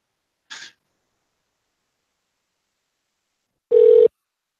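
Telephone tones while redialing an insurance number: a brief electronic chirp, a pause of silence, then a short, steady beep.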